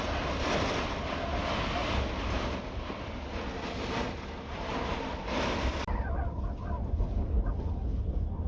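Deep Atlantic Ocean waves off the coast of Portugal, a continuous broadband roar of surf that stays steady and loud throughout, with a slight drop in the hiss near the end.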